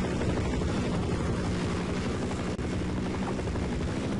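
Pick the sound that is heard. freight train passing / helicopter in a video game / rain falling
helicopter in a video game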